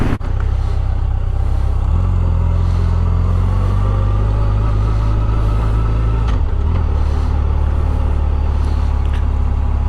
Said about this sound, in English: we're going to show some freeway riding, because that's what I really did buy this bike for